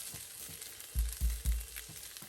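Vegetables stir-fried in a hot wok with oil and minced garlic, a steady close sizzle broken by three heavy thumping tosses or scrapes in quick succession.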